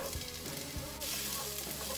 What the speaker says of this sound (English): we'll just continue sauteing, stir every once in a while for about 4 minutes until these carrots get a little bit tender